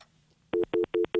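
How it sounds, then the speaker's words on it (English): A telephone line on a call-in radio show gives a clear, loud repeating tone in four evenly spaced beeps after near silence. "there's a dial tone for you."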